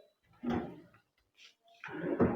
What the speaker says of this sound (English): And underneath we have got drawer